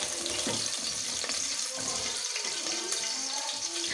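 Garlic frying in a pan for a dal dish, a continuous faint hissing sizzle with soft crackles and occasional small pops, steady and close, no talk.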